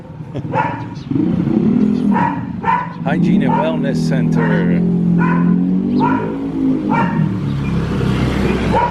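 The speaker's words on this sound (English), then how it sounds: "Nice dog." A dog barks several times in short bursts on a city street in Angeles City, Philippines, under steady traffic rumble and nearby conversation.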